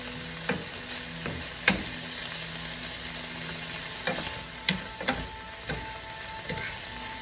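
Bitter gourd (ampalaya) sautéing in a pan with tomatoes that have cooked down to release their juice, giving a steady low sizzle broken by a few sharp clicks and scrapes of stirring, with no talk.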